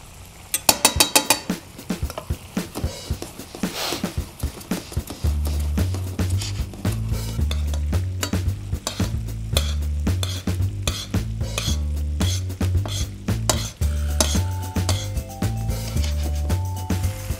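Steak for filet au poivre sizzling in a hot pan as it is turned, with a few sharp metallic clanks at the start, then a dense steady crackle with utensil taps, close, and music playing underneath.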